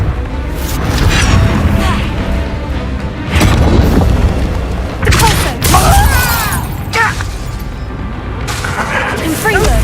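Confringo spell explosions in a video game: several heavy booming blasts arrive in bursts across the clip, loud and close, mixed with a voice talking between them.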